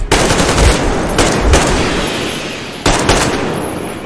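Loud gunfire in the video game Metro Exodus, with two or three close, heavy shots, each followed by a rolling echo that fades out.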